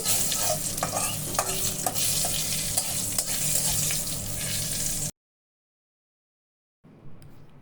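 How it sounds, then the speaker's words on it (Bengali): Bay leaf, cumin and black cumin fry in hot oil for a papaya dish, a dense close sizzle with frequent stirring scrapes for about five seconds, then sudden silence and a brief faint return of sound. "তেজপাতা জিরা একটু আর কালো জিরা এগুলো একটু কিছুক্ষণ নেড়ে চেড়ে ভেজে নেব"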